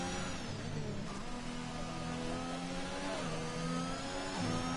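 An F1 race car engine in the racing game F1 2021 screams at high revs, holding a steady, loud whine that shifts pitch slightly as the car is pushed hard, with no talking.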